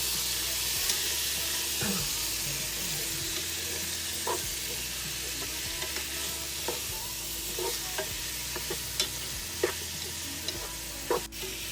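Onions, tomato and other ingredients for pork dinuguan sauté in a pan with a constant loud sizzle and hiss, punctuated by scattered utensil clicks and stirs, and faint talk in the background.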